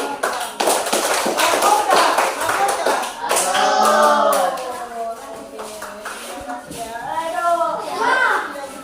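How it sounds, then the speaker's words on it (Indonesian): Children in a classroom clapping for a group, quick rhythmic claps near the start, then children's voices chanting and talking over scattered taps. "tepuk tangan untuk kelompok"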